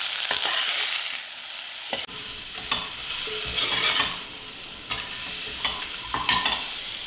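Vegetables for spinach pulao, seasoned with coriander powder and salt, are stirred in a hot pan, giving repeated scraping strokes over a steady soft sizzle, with no voices.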